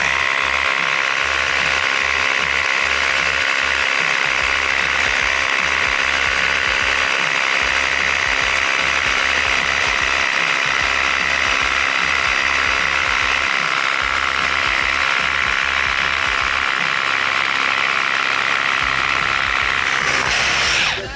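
A 40-volt cordless rotary hammer, 1-3/16 inch size, runs steadily and loud with a rapid mechanical ratcheting hammer action throughout, demonstrated on a trade show floor at a concrete industry expo.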